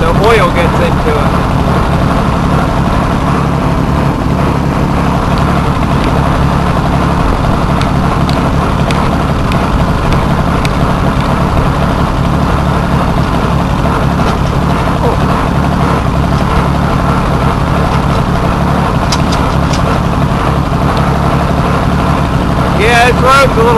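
A 1940 log-skidding machine's engine idles with a steady, loud, continuous low rumble for the whole stretch, running on original piston rings that let oil in and smoking slightly, with faint clatter on top.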